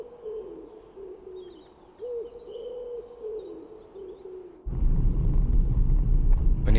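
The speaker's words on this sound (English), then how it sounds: "But nothing was as clear as the sounds of that house, especially the wood pigeons." Wood pigeons give soft, rhythmic cooing phrases around an old house in a calm, quiet setting. A loud, broad rush of noise abruptly cuts in near the end.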